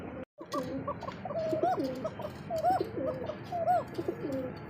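Pigeons coo at a pigeon market where Kokka pigeons are kept, with three rising, throaty coos repeating at steady intervals over a constant murmur of surrounding birds.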